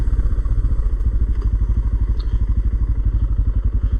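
Close, loud single-cylinder thumping from a dual-sport motorcycle engine pulses rapidly and steadily through deep sand, with faint clatter riding on the throbbing exhaust.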